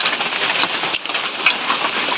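Steady rain falling, most likely at a rural hut, a dense even hiss with occasional louder drop hits, fairly close and unbroken, no voices.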